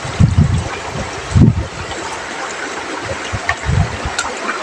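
Creek water flows steadily with a broad rushing wash that carries through the whole stretch, and a few louder low gusts or bumps stand out against it. No one speaks.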